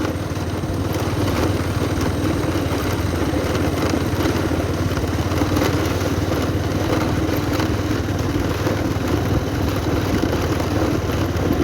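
A motorcycle ridden along a rough off-road path in the rainy season, its engine droning steadily and fairly loud for the whole stretch with no talking.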